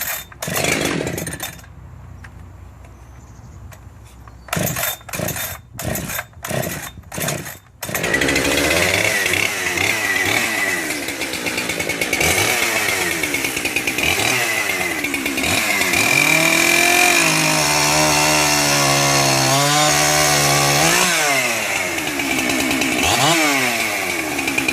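A Husqvarna 372XP chainsaw starts with several loud pulls and sputters, then roars at full throttle and revs up and down close by for the rest, loud and alone.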